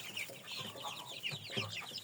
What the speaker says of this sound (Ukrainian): Так, ось у нас пухове курченятко.